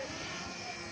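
A Nigerian-made drone engine drones steadily with a high, buzzing whine, constant and close for the whole second.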